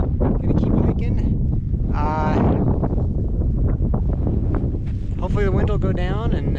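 Strong wind buffets the microphone on a high mountain ridge during a solo backpacking hike on the Idaho Centennial Trail, a constant roaring rumble throughout with a person talking over it.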